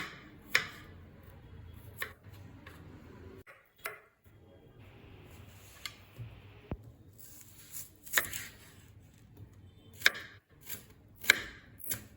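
Garlic is chopped with a knife on a board for kewa datshi, a Bhutanese dish: sharp single chops spaced a second or two apart, with quiet pauses between them.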